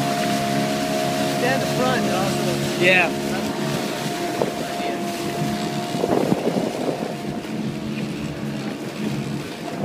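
A modified Prindle catamaran's motor runs steadily at full throttle on open water, a continuous drone with wind buffeting the microphone and splashing midway through.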